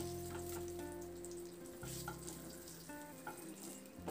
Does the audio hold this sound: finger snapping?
no